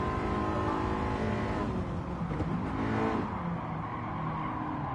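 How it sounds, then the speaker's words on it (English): Race car engine in a racing video game, held at a high, steady rev with a dense, continuous roar and a slight dip and swell partway through, loud throughout with no talk. "get the revs up, get the revs up, get the revs up,"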